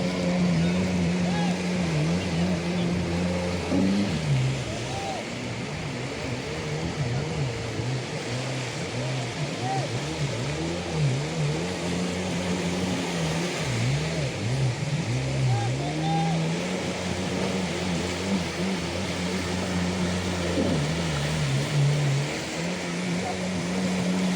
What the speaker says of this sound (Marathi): जशी मी तुम्हाला आता ही राईड दाखवली तशी जी 4 चाकाची ते बाईक आहे